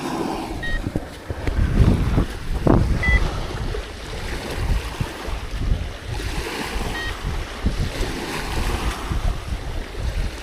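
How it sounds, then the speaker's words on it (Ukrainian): Gusty wind buffets the microphone beside Khadzhibey Estuary, with surf washing and low rumbling bursts, no talking. "Вітер дугу видуває."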